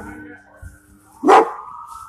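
A police dog gives one loud, sharp bark at close range after an officer's shooting and foot pursuit, with quieter officer voices before it and a faint whine afterward.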